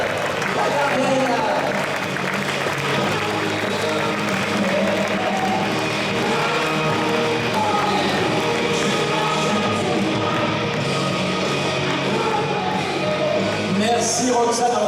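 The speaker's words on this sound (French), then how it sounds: "faites du bruit pour Roxane" A crowd at a handball club's official team presentation cheers and claps steadily for goalkeeper Roxane Franck, a dense continuous roar of applause and shouts throughout.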